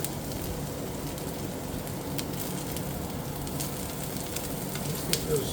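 Onions sizzling steadily in a hot pan while preparing a beef layered eggplant dish, a dense, even crackle holding at moderate loudness throughout with a slight bump near the end and no talking.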